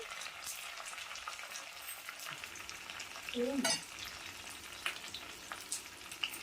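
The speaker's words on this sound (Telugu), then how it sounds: "కరివేపాకు వేసుకుని, కరివేపాకు కూడా వేగేంత వరకు వేయించుకోవాలి" Curry leaves crackle and sizzle in a small pan of hot tempering oil for dal, a steady close-up frying hiss with scattered pops and a brief scrape of stirring.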